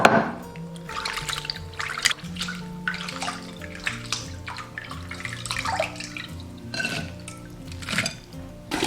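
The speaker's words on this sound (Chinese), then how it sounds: "接着把鲜虾清洗干净，" Fresh shrimp rinsed clean under running water for curry shrimp, splashing and pouring with clinks of a bowl or pan, close and continuous with uneven bursts.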